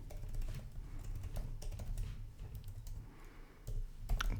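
Computer keyboard typing while writing Python code for a Binance cryptocurrency trading bot, a close, busy run of irregular key clicks and taps with a few louder strokes near the end.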